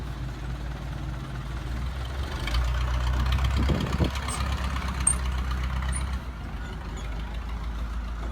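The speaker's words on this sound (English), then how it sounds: "A long boat." A low, steady long-tail boat engine rumble idles throughout on the River Kwai, swelling slightly louder midway, with a brief knocking burst near the middle.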